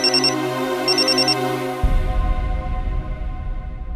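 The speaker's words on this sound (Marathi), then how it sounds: "उचल फोन आर्या" A phone rings with a repeated electronic ringtone, two short bursts of bright beeping tones, before the ringing cuts off and a low rumbling background takes over.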